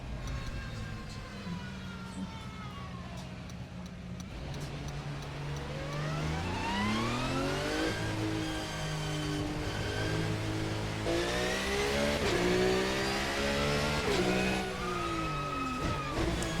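A car engine in the Assetto Corsa racing game climbs and drops through the gears, revving up again and again while driving, steady and fairly close, with someone speaking over it.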